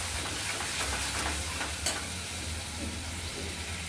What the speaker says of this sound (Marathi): जिरं छान तळतळलं की आपण जी पेस्ट करून घेतली आहे ती आपण टाकणार आहोत